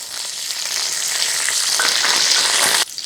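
Cumin, fennel seeds and curry leaves sizzling loudly in hot oil, a dense, steady crackling hiss up close that cuts off abruptly near the end.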